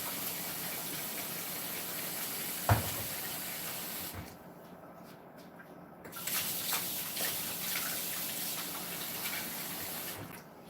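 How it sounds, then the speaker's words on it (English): Soapy water running into a bowl at a kitchen sink gives a steady close hiss and splash. It pauses briefly in the middle, a short clunk comes earlier, and then the flow resumes. "Put a little bit of soapy water in there and let those set."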